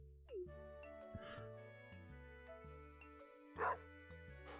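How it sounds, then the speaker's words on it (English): A game dog in the farming game Stardew Valley Expanded gives a few short yips and barks in a cutscene, alone over steady tonal background music with no talk. "You can communicate with the dog."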